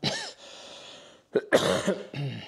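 A short throat-clearing sound, then a couple of close, raspy coughs in a brief burst.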